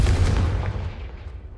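A Confringo explosive spell blast in Hogwarts Legacy: a single loud booming impact that decays over a second or so, heard alone.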